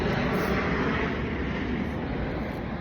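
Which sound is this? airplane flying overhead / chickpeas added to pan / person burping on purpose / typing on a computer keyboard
airplane flying overhead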